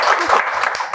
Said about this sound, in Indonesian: tepuk tangan dong, luar biasa